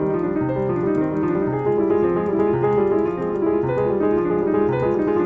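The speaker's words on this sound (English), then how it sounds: "A lot of times you'll hear beginners, amateur pianists sound like this." Amateur piano performance of a Bach piece, with sloppy, uneven timing where notes in chords fail to land together; steady, moderately loud playing with no talking throughout.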